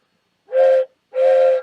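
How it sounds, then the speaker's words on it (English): A train whistle sounds two loud, close, sustained blasts of equal length, separated by a short gap, with nothing else heard. "I heard the train coming."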